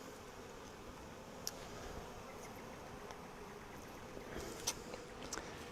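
Bees hum around a Flow Hive Classic during a honey harvest, a faint steady outdoor drone with a few brief closer buzzes passing by, no voices.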